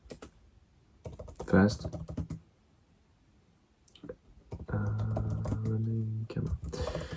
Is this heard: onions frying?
no